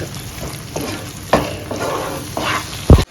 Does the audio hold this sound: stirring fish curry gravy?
yes